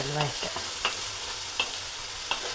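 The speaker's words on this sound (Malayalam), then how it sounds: "ഇതിലേക്ക് നമുക്ക് സവാള ഇട്ട് കൊടുക്കാം." Chopped onions sautéing in a pan for a prawn roast, a steady low sizzle broken by a few soft stirring scrapes of a spoon. No voices.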